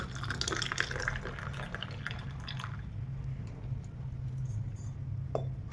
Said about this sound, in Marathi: मी ह्याच्यामधलं पाणी काढून घेते